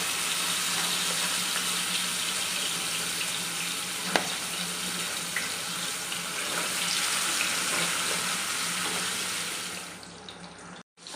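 Fish frying in a pan for a home-cooked meal, a steady loud sizzle that fills the whole clip with a few sharp crackles and pops, then cuts off abruptly near the end.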